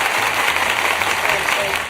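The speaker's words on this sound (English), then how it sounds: "Let me applaud it two more times." Applause at a Real Housewives of Atlanta reunion after-show, dense, continuous clapping across the whole stretch, loud and steady.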